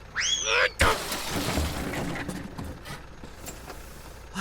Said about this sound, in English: Kodiak goes flying into a nearby gardener's shed.